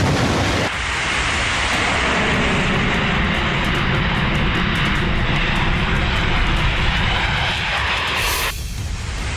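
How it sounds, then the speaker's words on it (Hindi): An F-35 fighter jet roars loud and steady with broad engine noise, sustained throughout with no voices, cutting off sharply near the end. "F-35 लड़ाकू विमान उड़ा।"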